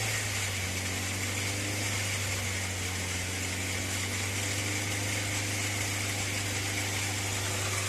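A warm VW Lupo engine idles steadily during hydrogen decarbonization, a constant low hum with a mechanical whine on top, no pauses and no voices.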